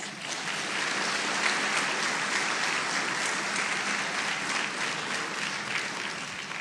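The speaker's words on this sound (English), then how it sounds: "give them a big round of applause" A large crowd applauds steadily at a graduation ceremony, a dense, even wash of clapping that holds at full strength throughout.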